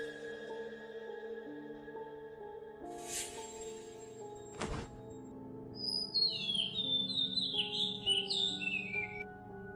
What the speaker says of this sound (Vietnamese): Hóa ra là một con chim hỉ, điểm báo tin vui.